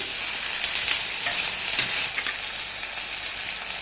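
Onion and garlic sizzle and crackle in a hot pan for a South Indian dish, a bright steady hiss with occasional stirring scrapes, close up and without talk.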